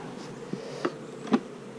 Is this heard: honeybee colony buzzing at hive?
yes